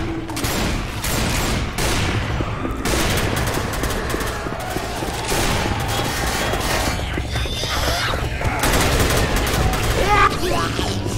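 Gunfire from the video game Left 4 Dead, with rapid repeated shots and bursts running continuously alongside crashes and booms, loud and close, while voices talk over the action.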